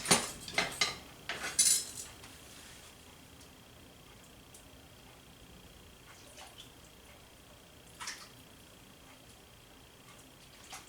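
A metal ladle and spoon clink against a bowl of Italian wedding soup, with several sharp taps close together at the start, then quiet with a faint drip-like knock later.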